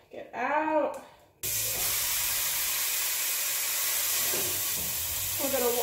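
Chili meat squeezed into a pan over medium-high heat gives a steady, loud sizzling hiss once it hits the pan. A voice talks briefly at the start, before the hiss begins, and again near the end over it.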